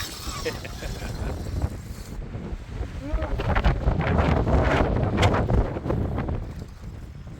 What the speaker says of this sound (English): Alright, back in the tree line out of this wind.